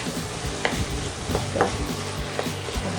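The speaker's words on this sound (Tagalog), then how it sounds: "Gigisa lang natin to hanggang mag-brown yung ating beef." Ground beef being sautéed in a pan until browned for an eggplant kaldereta, a dense steady sizzle punctuated by several stirring scrapes and taps, close and loud with no talking.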